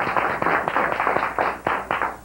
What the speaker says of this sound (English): let me get the applause